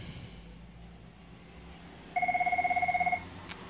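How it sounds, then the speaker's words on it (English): A phone rings with one short electronic trilling burst of rapid, evenly pulsed tones, clear and fairly close over a quiet room, with no talking. "that's my phone."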